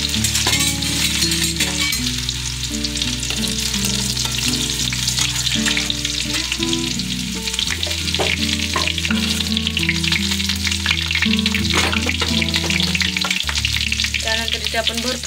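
Crushed garlic fries in a pan for methi bhaji with a loud, dense, continuous sizzle and occasional stirring clinks, heard alongside background music for about fifteen seconds.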